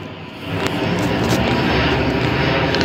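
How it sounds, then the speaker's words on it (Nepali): A fixed-wing airplane flies overhead near Chovar, Kathmandu, its steady broad engine roar holding loud and constant throughout with only faint voices beneath. "प्लेन उडिरहेको छ"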